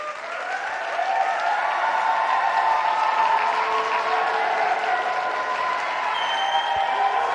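A recorded roaring crowd plays back in a TV studio, a dense continuous wash of cheering and clapping that swells early and holds steady at a loud level.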